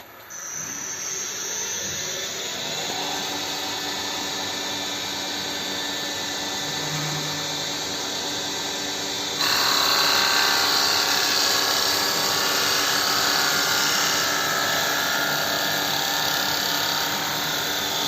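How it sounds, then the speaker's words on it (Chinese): An STL-5025 wood CNC lathe cuts a small wooden vase in a single pass, giving a loud, steady whining drone that shifts abruptly to a brighter, harsher tone partway through. "我们现在车的是用一刀成型，车了一个简易的小花瓶"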